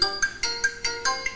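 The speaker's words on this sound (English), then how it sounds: "It's amazing how my phone rings in the middle of this." A ringtone from a Chinese-made phone repeats in a regular pattern of bright tonal bursts, about five rings in quick succession, fairly close and clear with no talking over it.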